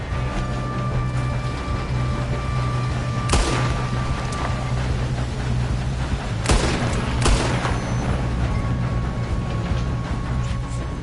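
Gunfire during a train robbery in the video game Red Dead Redemption 2, three sharp shots spaced a few seconds apart over a steady rumbling game soundscape.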